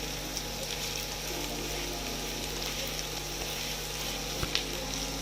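Chopped onions frying in a pan for chicken cutlets, a steady, dense sizzle at moderate level with a few faint clicks of stirring, no talk.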